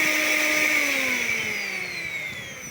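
A repaired electric mixer grinder whirs at high speed, a loud steady whine close by that slowly drops in pitch as it runs down, with no voices.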